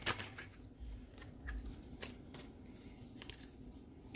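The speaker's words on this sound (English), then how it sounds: "One more good shuffle." Tarot cards are riffled and shuffled in several quick bursts, close up, with soft flicking and snapping between them.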